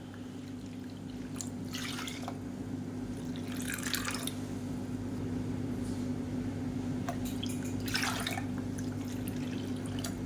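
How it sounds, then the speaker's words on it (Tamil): Water poured steadily into a pot for rice and urad dal porridge, a continuous trickling and splashing with a few louder gushes, close and alone without talk. "ஒரு கப்புக்கு நல்லா அஞ்சு கப்பு தண்ணி ஊற்றிக்கலாம்"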